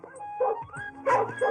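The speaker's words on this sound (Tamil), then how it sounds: "புது நாய் இழுக்குது, யாருக்கு கட்டுப்பட மாட்டேங்குது" A new, unruly dog that keeps pulling and won't obey lets out a few short, sharp barks and yips in quick bursts, close by and fairly loud, with quieter gaps between them.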